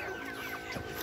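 Young chickens, about two and a half months old, clucking softly in a continuous low murmur of fowl sounds throughout the short stretch, with no voices.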